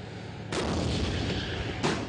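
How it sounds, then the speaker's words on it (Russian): A tank cannon fires a single heavy, muffled boom that rolls on during a tank biathlon race, then a second blast follows near the end, heard from a distance. "Еще один выстрел."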